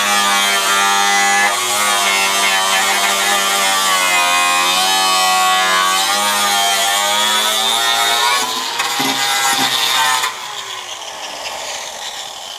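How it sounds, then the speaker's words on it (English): An angle grinder works the inner wheel lip of a 1974 Dodge Dart Sport 360 drag race car, a loud, close, continuous high whine that wavers in pitch, then drops off sharply near the end to a quieter hum. "So next will be the inner wheel lip. So I'm going to get me a light and a grinder"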